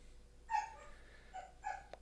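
Dogs bark in a few short yelps near a workshop where lead is being poured into silicone molds, three quick barks spaced over two seconds, moderately loud, with no talk over them.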